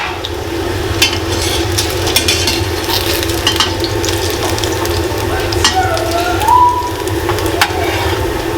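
Pork ribs fry in a hot pan for Cambodian barbecue ribs, a loud, continuous close sizzle with occasional utensil scrapes and stirring clinks throughout.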